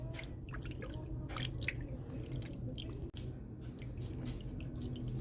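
Water steadily draining and dripping off a batch of freshly rinsed crawfish, a continuous close wet trickle with small squishy shifts of shells, no voices.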